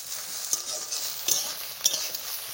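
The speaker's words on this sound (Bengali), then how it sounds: "লবণ দিয়ে ভাজা করে নিচ্ছি।" Taro stolons fry with salt in a pan, making a continuous close hiss. Three sharp spatula scrapes or taps stand out above the sizzle.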